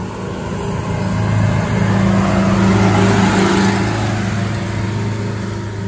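A truck engine that is low on turbo power labors up a hill, a steady, fairly loud drone and hum that swells slightly midway and holds, with no voices over it.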